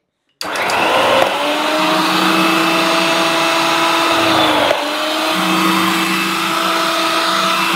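A Robo Cook mixer fitted with a French fry cutting disc slices potatoes with a loud, steady motor whine that starts abruptly and runs continuously, with a brief dip in pitch midway.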